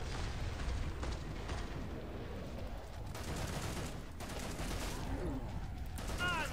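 Varmint rifle shots in Killing Floor 2 crack through a thick, rumbling wash of game combat noise, the shots spaced and irregular, distant-sounding and fairly muffled.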